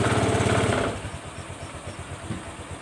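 A Honda Vario 125 scooter with a heavy, sluggish pull, its air filter just replaced and radiator refilled, roars loudly up close for about a second, then drops to a steady, rhythmic low idle putter.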